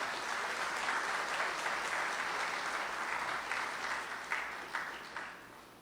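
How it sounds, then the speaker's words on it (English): Sustained round of applause from a large audience at a university chancellor's installation ceremony, thick and continuous, then thinning toward the end as a few separate claps stand out. "Please give him the biggest round of applause."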